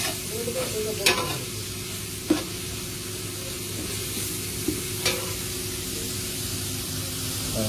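Chicken fries in a pan with a steady hiss of sizzling oil, close by, while a utensil scrapes and knocks against the pan a few times.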